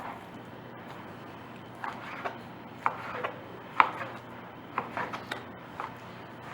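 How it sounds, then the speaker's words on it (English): A knife cuts beef inside round into bite-sized pieces on a board, producing a series of soft irregular chops and taps, quiet and close, with no speech. "Cut in bite-sized pieces."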